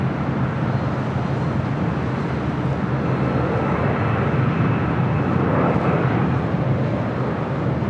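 Airliner taking off from runway 6 left at LAX, a loud, continuous broad roar of jet engines that holds steady throughout without breaks.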